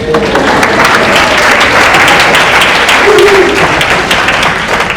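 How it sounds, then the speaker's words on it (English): Steady applause from a crowd, dense and continuous for the whole stretch, with a faint murmur of voices underneath. "you're supposed to all clap now. Everybody clap."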